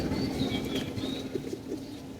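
Soft pigeon cooing rises and falls over a steady background hum at a pigeon market in Tongi, Bangladesh, with faint chirps and a light flutter nearby.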